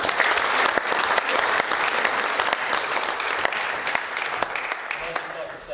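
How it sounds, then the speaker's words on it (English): Audience applause for junior squash players at an exhibition event, a steady wash of many hands clapping close and fairly loud for several seconds, with crowd murmur underneath and no talk over it. "So maybe a round of applause for them."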